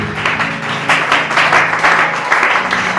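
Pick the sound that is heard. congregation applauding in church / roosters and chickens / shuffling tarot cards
congregation applauding in church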